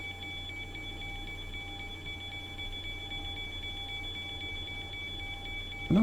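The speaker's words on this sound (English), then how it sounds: "No idea why we've got an alarm for." A cockpit alarm in the X-Plane 11 Zibo Boeing 737 flight simulator sounds as a steady, continuous electronic tone over a constant low hum, moderately loud and unbroken, with no voices.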